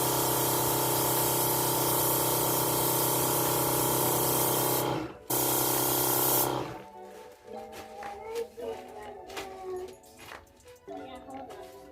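A paint sprayer hisses loudly and steadily while coating kitchen cabinets, breaks off briefly, resumes, then cuts out, leaving quieter room sounds with a dog whimpering and yipping.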